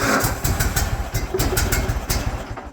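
An old lawn mower engine fires up on full choke and runs with a rough, loud, pulsing idle up close, its uneven beats sputtering slightly toward the end.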